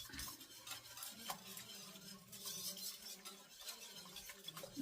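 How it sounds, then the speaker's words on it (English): A small spoon whisks sour cream in a measuring cup for beef stroganoff, making faint, quick, rhythmic scraping and light clinks against the cup, close but quiet, with no talking. "I'm going to take this little spoon right here"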